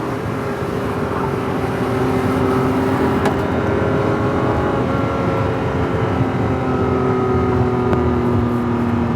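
A 1984 Ferrari 512BBi's fuel-injected flat-12 engine drones loud and close in fourth gear, a sustained smooth roar that slowly rises and dips in pitch.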